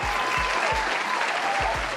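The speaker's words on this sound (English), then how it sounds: "give yourself a round of applause" A round of applause sound effect: dense, steady clapping from a crowd fills the whole stretch at constant loudness, with a few soft low thumps underneath.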